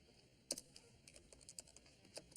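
A computer keyboard clicks under irregular typing as someone writes a letter, the keystrokes sparse, uneven and fairly soft in a quiet room.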